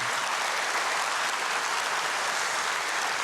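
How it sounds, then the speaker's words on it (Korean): A church congregation at a dawn prayer service applauds in thanks for a visiting pastor, a smooth, even wash of many hands clapping at moderate loudness, heard from a little distance and without voices. "오성춘 목사님께 감사와 존경의 박수 한번 드리겠습니다."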